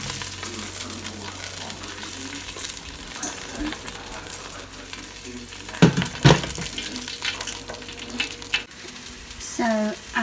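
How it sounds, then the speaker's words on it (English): Sweet potatoes fry in oil in an air fryer, giving a steady soft sizzle throughout with a few louder clatters and crackles partway through and no talk. "You can still hear it sizzling."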